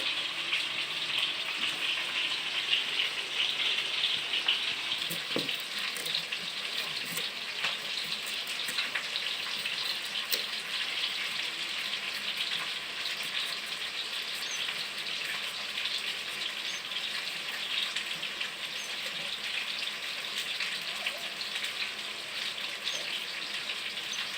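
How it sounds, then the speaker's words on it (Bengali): Tilapia frying in a pan, a steady, even hiss and crackle of hot oil with scattered faint pops, continuing unchanged throughout with no talking. "তারপরে মাছগুলো ভাজি হোক"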